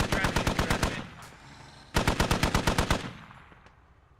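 Rapid bursts of automatic gunfire in the video game Squad, two loud sustained volleys of evenly spaced shots separated by a brief lull, with faint echoing tails and a distant shot near the end.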